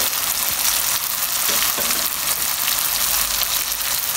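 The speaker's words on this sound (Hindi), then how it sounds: "इनको डाल के मिक्स करते हैं और साथ साथ भून भी लेते हैं इनको" Spices fry with tomatoes and mixed vegetables in a pan while being stirred, making a loud, continuous sizzle with scraping and stirring knocks. No one speaks.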